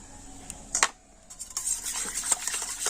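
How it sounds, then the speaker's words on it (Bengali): A spoon stirring white oil into a frothy warm milk and sugar mixture in a steel bowl, with a few sharp metallic clinks and scraping swirls against the bowl's sides, close and fairly quiet. "তেলটাও আমি ভালো করে এইভাবে মিশিয়ে নিচ্ছি।"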